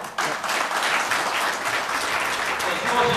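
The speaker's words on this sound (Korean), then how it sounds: "권태호 최고위원께 다시 한번 큰 박수 부탁드리겠습니다" Sustained applause from the audience at a Daegu city party gathering, a full, even roar of many hands clapping for a party council member, continuing without pause throughout.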